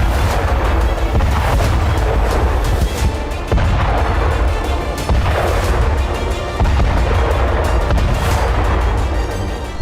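Continuous, loud, booming blasts from air strikes bringing down buildings, layered with crackling bursts and rumble over about ten seconds, with no pause between impacts.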